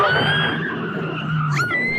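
Tires skid and squeal in a movie car crash in the woods, a sustained screeching slide with a rising whine near the end, fairly loud with no talk over it.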